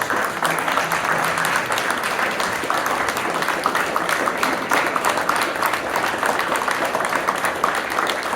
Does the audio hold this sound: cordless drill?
no